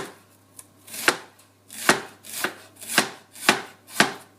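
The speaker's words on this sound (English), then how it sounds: "It doesn't matter how thick or thin you are slicing the onions." Knife slicing onions on a cutting board, giving seven crisp, evenly spaced chops with short gaps between them, close and clear with no talk.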